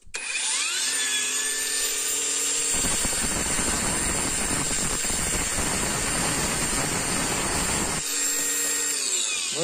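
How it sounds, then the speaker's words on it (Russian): An angle grinder whines at steady high speed and then bites into a hand-held piece of rebar. A harsh, gritty cutting roar lasts several seconds before the motor returns to a free-spinning whine. "Мы пытаемся держать в руках и отпилить это все при помощи УШМ."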